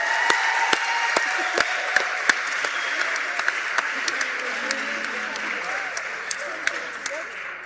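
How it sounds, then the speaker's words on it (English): Audience applause at a Dayton-area graduation ceremony, steady clapping from a crowd with sharp individual claps standing out near the listener, while voices murmur and call out underneath. "Let's give them another round of applause."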